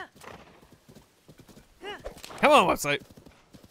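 A horse gallops in The Legend of Zelda: Tears of the Kingdom, with rapid clip-clop hoofbeats under a man's speech and a loud, shrill neigh near the end.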